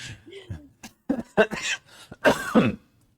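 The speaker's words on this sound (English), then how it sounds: "the coughing fit has arrived again" A fit of coughing and throat clearing, several harsh bursts in quick clusters, close and fairly loud, with short pauses between.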